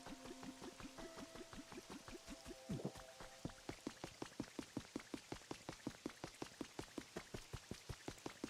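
Steady rain falls in the video game Pokopia, a quiet patter of drops tapping a surface in an even, rapid rhythm that grows more distinct toward the end, no voices.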